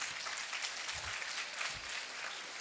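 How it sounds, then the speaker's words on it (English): Audience applause at an Indian speaker's education session in a hall, steady broadband clapping throughout with a couple of low thumps, moderately loud and without talk. "You are clapping for cricket"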